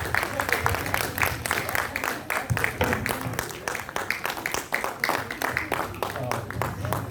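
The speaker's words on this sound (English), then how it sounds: "a huge round of applause for such a duet song full of variety" Audience applause at an Independence Day celebration after a duet song, a dense patter of many hands clapping steadily and fairly close throughout, with voices faintly mixed in.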